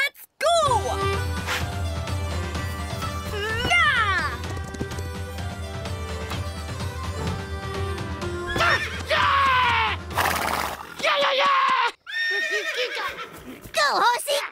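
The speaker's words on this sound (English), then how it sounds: "Horse racing! Once around the loch, first one back's the winner!" Horses neigh and whinny loudly in a cartoon horse race around a Scottish loch, with hoof clip-clop and busy musical score throughout and a crash-like burst near the end.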